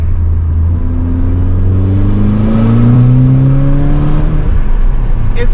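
Exhaust of a Stage 2 APR-tuned 2016 Volkswagen Golf R accelerating hard, a loud, continuous engine note with steadily rising pitch through the gear, close and alone without talk.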